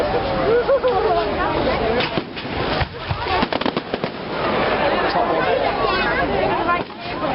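Bonfire night fireworks burst and crackle repeatedly at middle distance, sharp bangs scattered through the stretch, while a crowd chatters and talks throughout.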